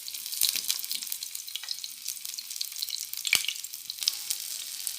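Garlic pieces frying in hot oil in a pan, a steady close hiss and crackle with a few sharp pops, no talking.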